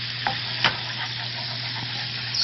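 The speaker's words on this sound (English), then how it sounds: "Stir it up." Flour is stirred into a sizzling pan sauce, with a utensil scraping and tapping the pan over a constant frying hiss, close and alone without speech.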